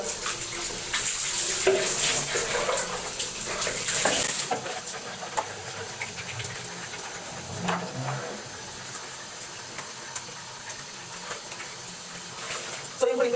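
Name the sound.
water running while bathing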